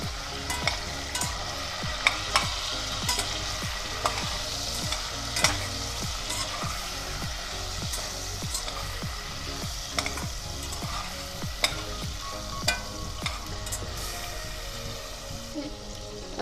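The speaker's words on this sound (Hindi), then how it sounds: "अदरक पेस्ट आधा चम्मच डालेंगे और इसको अच्छे से भूनेंगे" Garlic and ginger paste with salt frying in a pan for chicken pistachio korma, a continuous oily sizzle broken by repeated scraping strokes of a spoon stirring the paste, close and steady throughout.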